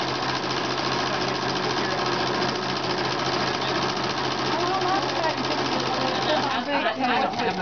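A sewing machine stitching around a chevron quilt at a sewing center, a steady close mechanical whir that runs throughout with a quick rhythmic chatter near the end.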